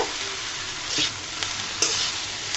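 A spoon stirs ground coriander and cumin into snake gourd frying in a pan, with a steady oily sizzle and occasional scraping clinks of the utensil against the pan, close and alone.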